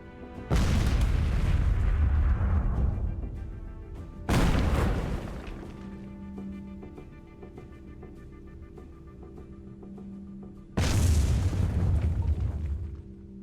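Three heavy artillery blasts from a big gun on an ordnance platform in the sci-fi train RTS Miners Mettle, each a deep booming report with a long rumbling decay, spaced several seconds apart over a low mechanical hum.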